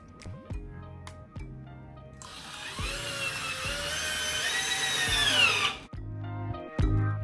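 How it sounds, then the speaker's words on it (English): A power drill drives a screw to fix the backing onto a wooden bench, a rising high whine lasting about three seconds, close and loud, framed by rhythmic knocking and handling thumps. "while you screw the backing onto the bench"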